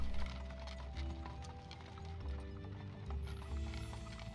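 Horse hooves clop in the medieval video game Life is Feudal, a steady irregular clatter of steps with a brief whinny, set against a low rumbling game ambience.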